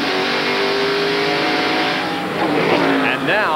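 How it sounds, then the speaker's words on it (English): A 1993 race car leaving pit road, its engine revving up through the gears at a distance, a steady roar that rises in pitch near the end while a commentator talks over it. "you can begin to hear Tommy Kendall rev the engine in the background"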